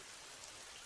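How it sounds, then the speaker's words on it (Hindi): Steady rain falls outside, a dense, even hiss of drops holding at a constant level throughout, with no talking over it. "बाहर बारिश हो रही है ना"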